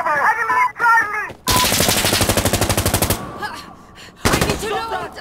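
A long, loud burst of automatic fire from a Grease Gun in the shooter game Insurgency Sandstorm, evenly spaced rapid shots lasting under two seconds, with shouting voices before and after and another burst starting near the end.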